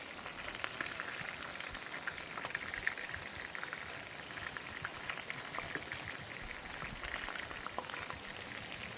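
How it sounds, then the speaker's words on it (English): Rain starting to fall at a camp atop a waterfall, a faint, even patter of drops spread steadily across the whole stretch with no distinct gaps. "It's starting to rain again"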